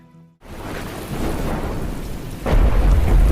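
Heavy rain and rolling thunder in a film set among a remote Papuan tribe during the rainy season, a loud steady downpour that swells into a deep, booming rumble.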